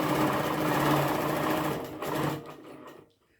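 A sewing machine with a Sure Start foot stitches a line of a parabolic curve. It runs at a fast, steady clatter close by, slows near the end and then stops, leaving silence.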